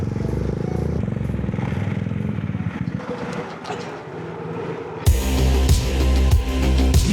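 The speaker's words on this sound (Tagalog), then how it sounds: "Iyabog na mga motor nito" Motorcycle engines at a moto rally in Mindanao rumble and rev continuously, rough and close, with a louder, harsher surge of revving in the last couple of seconds.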